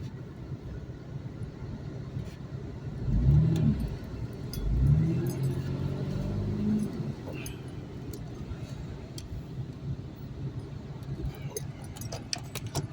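Lexus car with a failing transmission driven in third gear, a faint low engine drone swelling twice in brief revs before settling to a quiet steady rumble, with light rattles and someone speaking.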